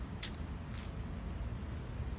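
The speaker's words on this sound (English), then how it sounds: "Crickets are about." Crickets chirp in Japan on a hot August evening, with short high-pitched pulsed trills repeating in bursts over a quiet, low ambient background at a moderate distance.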